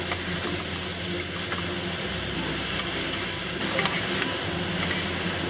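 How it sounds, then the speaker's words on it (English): Long beans with minced pork and preserved olives stir-fry in a wok, with a constant loud sizzle and scraping tosses close up. "We're just going to stir fry this for about 30 to 45 seconds."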